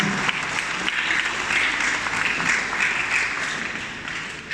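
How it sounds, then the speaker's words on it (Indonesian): A church congregation applauds during a Sunday worship service, a dense, steady wash of clapping that holds for several seconds at a moderate level. "beri tepuk diri sendiri untuk kita terus setia untuk beribadah kepada Tuhan"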